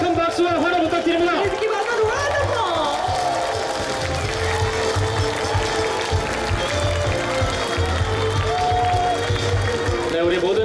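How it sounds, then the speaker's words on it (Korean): Festival audience and competing dance teams applaud together at a world dance festival award ceremony in Cheonan, steady dense clapping mixed with crowd noise and background music, with an announcer's voice talking over it throughout. "우리 모든 참가팀들이 아낌없는 축하의 박수 보내주고 계십니다"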